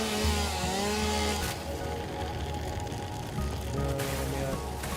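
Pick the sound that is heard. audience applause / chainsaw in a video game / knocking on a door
chainsaw in a video game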